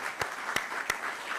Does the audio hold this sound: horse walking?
no